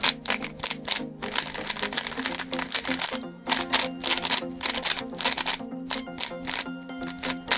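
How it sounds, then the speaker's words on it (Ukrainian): A MoYu Super Weilong Ball Core speed cube with 8 magnets being turned quickly, a close, dense run of rapid plastic clicks and clacks in uneven bursts with brief pauses between sequences. "Ну і нарешті спробуємо покрутити даний куб."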